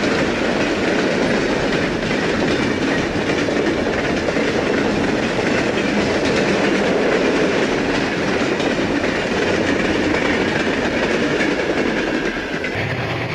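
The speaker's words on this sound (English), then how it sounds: "There's an eastbound Portland coal train in the Neon Gorge." An eastbound Erie Lackawanna coal freight train rolls past in a gorge, a loud, steady roar of wheels and cars with rhythmic clickety-clack throughout, no voices.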